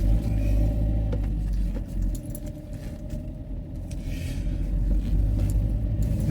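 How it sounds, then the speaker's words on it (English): A van drives slowly through heavy bonfire night traffic and crowds, its engine a steady close rumble throughout, with faint jangling and rattling on top and no talk. "I'm going to drive past it in a minute."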